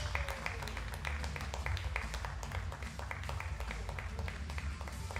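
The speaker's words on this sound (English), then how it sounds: "And also with a big applause, he's representing India." A crowd applauds a shooter from India being introduced at a 10 m pistol final, with steady dense clapping throughout and a voice announcing over it.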